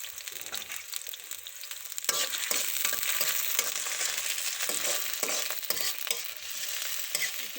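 Onions frying in a kadai for an aloo bhujia potato curry, a crackling sizzle that jumps louder after a couple of seconds and carries on with steady stirring scrapes, close and without speech.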